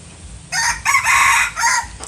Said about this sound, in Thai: เสียงขันเพราะนะครับ